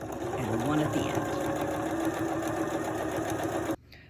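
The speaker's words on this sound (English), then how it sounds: "Okay, so now we're going to sew it exactly the same way we sewed before." A sewing machine stitches the yoke facing of a button-down shirt with a steady, close mechanical whir. A voice talks over it, and the machine stops abruptly near the end.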